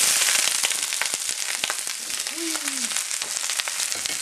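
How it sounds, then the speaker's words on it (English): Vegetables fry in extra virgin olive oil in a wok, a steady close crackling sizzle with sharp pops throughout, plus a brief tonal scrape midway. "I will go ahead and fry this up"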